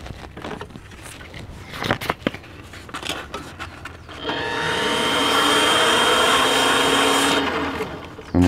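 A metal lathe spins at high speed while 600 grit sandpaper is pressed against a freshly knurled part, giving a steady, loud whirring hiss that swells in and then fades, preceded by scattered tool clatter.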